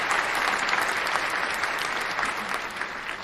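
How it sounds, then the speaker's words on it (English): A steady, dense round of applause runs throughout, loud and continuous with no break and no talking over it. "that's just a round of applause"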